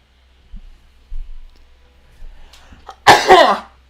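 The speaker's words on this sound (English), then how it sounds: "Just had to sneeze." A single loud sneeze bursts out close to the microphone after a quiet stretch with a few soft breaths and small sounds, sharp and brief.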